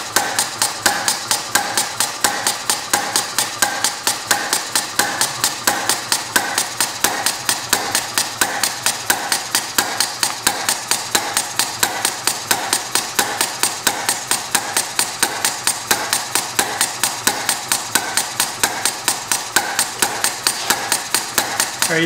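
A hit-and-miss air engine with a governor runs steadily, giving a fast, regular stream of sharp knocking beats, close and loud, without pause.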